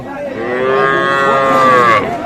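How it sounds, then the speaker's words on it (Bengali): A young bull calf of about four months moos once in a long, loud, close call at a cattle market, with no talk over it. "এটা কিন্তু ষাঁড় বাছুর, সাইজটা বেশ বড় সড়ো, 4 মাস বয়স হতে পারে।"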